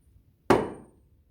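One crisp tap of a tuning fork against a rubber pad, near and clear, with a short ringing tail that fades within half a second in an otherwise quiet room.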